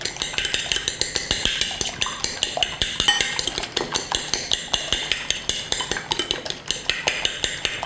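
A fork beats egg whites in a flat dish for breading chicken sliders, giving a steady, rapid run of close metallic clinks and scrapes against the dish that carries on throughout, with no talking.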